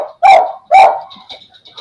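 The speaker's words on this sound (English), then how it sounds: "I think he's back because the dogs are barking." Two loud, close dog barks in quick succession, each sharp and ringing, followed by fainter chirpy squeaks and softer background sounds with no talk.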